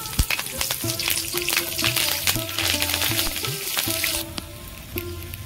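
Nigella seeds and torn dried red chillies hitting hot oil in a pan, a close, lively crackling sizzle with a faint tonal hum underneath, steady throughout without speech.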